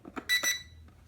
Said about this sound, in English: put that up and down until you hear a beep